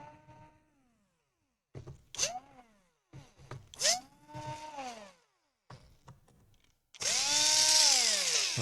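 Laptop screws are driven out of an Asus G46V with a Torx T8H bit in a small electric screwdriver, heard as several short, rising and falling whirring bursts, close and fairly loud, ending in a longer, harsher run.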